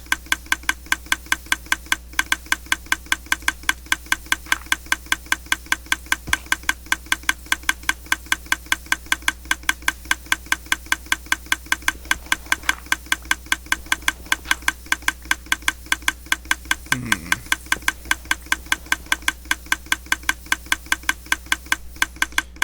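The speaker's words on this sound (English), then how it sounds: "Now we have a very noisy burnout torch repulsor." A very noisy burnout torch repulsor drones with a low steady hum under a fast, regular knocking pulse that runs evenly throughout, close and continuous, with no talking.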